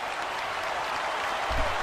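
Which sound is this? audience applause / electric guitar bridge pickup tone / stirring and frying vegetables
audience applause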